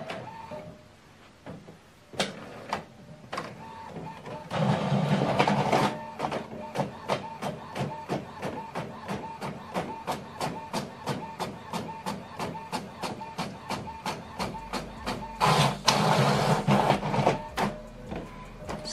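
An Epson WF all-in-one printer prints a double-sided document, with a rapid regular clicking and ticking mechanism interrupted by louder whirring bursts of paper feeding near the start and end.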